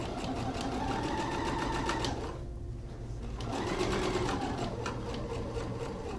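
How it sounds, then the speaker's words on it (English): A sewing machine stitches a makeup kit pocket in steady close whirring runs, pausing briefly midway for a pivot before continuing to sew. "raise the presser foot, pivot our work, and continue sewing back to the top of the other pocket"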